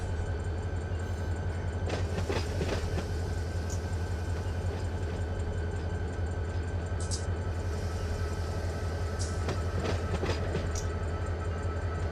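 An SD40 diesel locomotive hauling a train in the Run 8 simulator, set in Southern California, gives a steady loud engine drone with rail rumble and occasional clicks of the wheels over the track.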